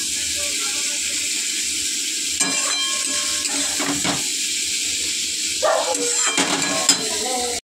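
An ingredient tipped into hot khichuri in a pan sets off a loud hiss and sizzle, with a steady frying crackle, a few clatters of utensils and a voice talking over it.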